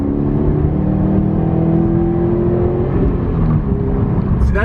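A 2017 Subaru WRX STI accelerating up a highway on-ramp onto I-25, with a steady engine drone and rising whir heard from inside the car, continuous and fairly loud with road noise.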